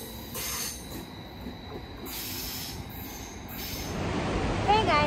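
A Swiss train from Zurich arrives at a stop near Schaffhausen with a low rumbling roll and hiss, and wheels squeal toward the end as it slows. The sound gradually grows louder, and faint voices can be heard.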